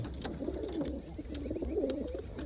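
Low, rolling pigeon coos repeat steadily at close range, with faint clicks and rustles in the background.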